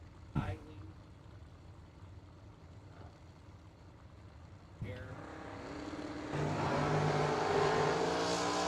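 Cars launching at a drag strip bracket race including a 1966 Chevy II, a distant engine roar that builds and surges louder toward the end, under a faint announcer's voice and crowd ambience.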